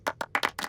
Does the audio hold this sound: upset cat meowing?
no